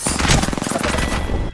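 Rapid gunfire in Apex Legends during an ALGS Championship match: loud, close bursts of repeated shots crack in quick succession with little pause, nearly alone with hardly any talk.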